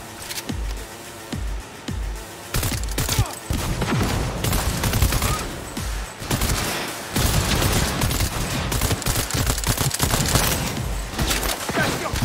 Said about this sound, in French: Tire dans la tête